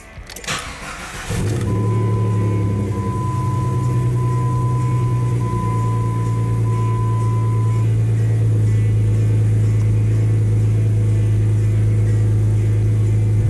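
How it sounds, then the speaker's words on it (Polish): A cold car engine cranks briefly, catches and settles into a loud, steady idle while warming up before an oil change and kerosene flush, a continuous close drone with a thin whine running above it. "Silnik jest zimny, odpalam, żeby go rozgrzać."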